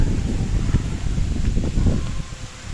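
Gusty wind on an island coast in Baganga, Davao Oriental, buffets the microphone with low rumbling bursts and rustling, uneven and close, with no clear voices.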